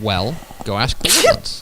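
A single sneeze bursts out between stretches of ordinary talk on a Texas high school football show, sharp and close, with voices continuing around it.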